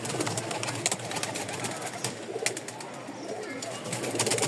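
Pigeons kept for sale cooing close by, soft repeated throaty coos over a busy background with faint talk.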